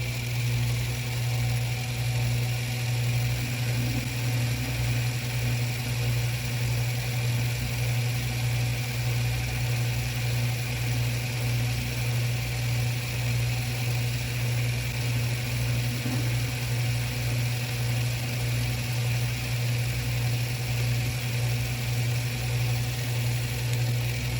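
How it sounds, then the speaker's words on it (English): A small Atlas 618 lathe takes a heavy cut on steel, giving a steady motor hum with a constant low tone and faint scraping from the tool, unbroken and fairly loud throughout. "that's a pretty heavy cut unsupported for a little lathe like this on steel"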